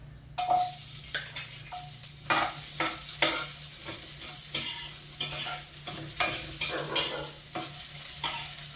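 Onion and garlic sauté in a hot pan with a continuous close sizzle, and repeated scraping strokes of stirring run throughout. No one speaks.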